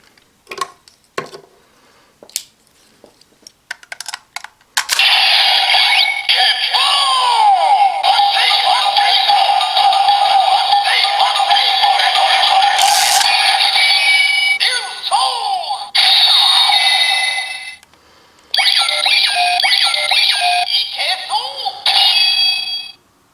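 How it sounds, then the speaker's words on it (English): A Ryusoul Changer toy from Kishiryu Sentai Ryusoulger: a few clicks of handling, then loud, bright electronic jingles and chimes play almost continuously, pausing briefly before resuming. "Next, we'll test one out with the Ryusoul changer, since, as usual, they all make the same sounds."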